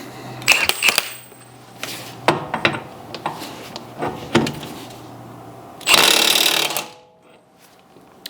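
A power tool works at a stuck part on a car, giving several short rattling impact bursts and then one longer loud whirring run of about a second before it stops.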